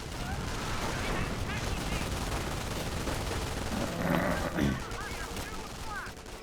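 Wehrmacht sniper shots and scattered gunfire in the Company of Heroes battle game, sharp reports and bursts sounding steadily over the whole stretch amid a busy battlefield din, with a louder flurry near the end.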